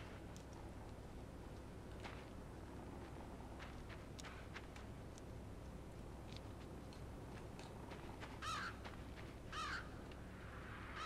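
A bird in the video game Limbo gives several harsh caws over a low, constant rumbling ambience, with two louder calls near the end.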